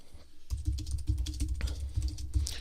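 Typing on a Logitech K760 Solar wireless keyboard, entering text into an iPad notes app: a steady run of light, clicky keystrokes at close range, with no talking.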